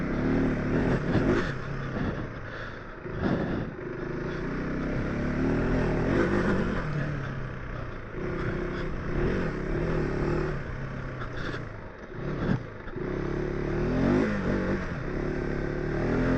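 A KTM 390 Adventure R motorcycle rides on dirt trails, its engine revving up and down unevenly while gravel and parts clatter and scrape, close and loud throughout.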